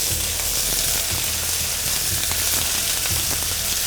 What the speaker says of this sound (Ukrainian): Треба ставити на велику сковороду, бо Е, м'ясо виділяє, при смаженні виділяє вологу